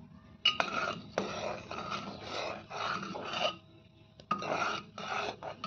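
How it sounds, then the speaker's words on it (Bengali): Dishes and a kadai are scrubbed by hand in a series of close, rasping strokes, grouped in uneven bursts with short pauses between. "এই কড়াই টড়াই এগুলো সমস্ত কিছু মেজে মেজে নিয়ে আসি"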